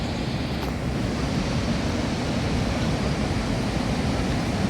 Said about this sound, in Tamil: அதிரப்பள்ளி ஃபால்ஸ்.